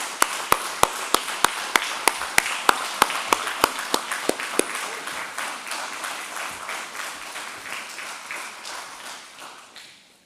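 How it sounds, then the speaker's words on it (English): A single pair of hands claps out sharp, evenly spaced beats up close, then a broader round of audience applause for employees at a power cooperative's annual meeting swells and gradually fades. "Would you join me in giving our employees a round of applause?"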